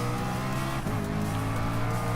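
A loud, steady engine roar from Gran Turismo Sport as traffic cars pass a McLaren P1 GTR at top speed, with faint tire squeal and the pitch shifting as each car goes by.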